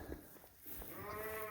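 A ewe on a sheep farm during lambing season gives a faint, wavering bleat that swells toward the end, with low barn rustling beneath.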